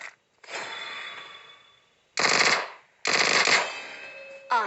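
Bursts of automatic gunfire in a video game come in three separate rattling volleys, loud and close, with brief quiet gaps between them and a short metallic ping at the end.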